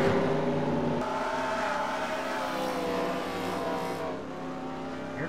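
Race cars roll down pit road during a stock car race, engines droning and shifting in pitch as they pass at moderate distance, a continuous layered motor roar with no talk.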